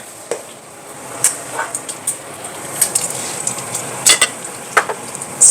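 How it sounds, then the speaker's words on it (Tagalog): Garlic and onion sautéing in a little oil in a pan, with soft sizzling and occasional stirring scrapes and utensil clicks, fairly quiet and close. "igisa muna natin tong bawang. Nilagay na rin natin yung sibuyas"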